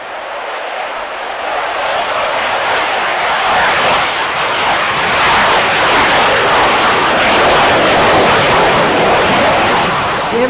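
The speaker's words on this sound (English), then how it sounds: "Every bit of thrust they have is being ignited when they take back off up into the air" A military jet takes off again after practice carrier landings at an outlying field, its engine a loud, roaring blast of thrust that swells over several seconds and holds steady, close by and overwhelming.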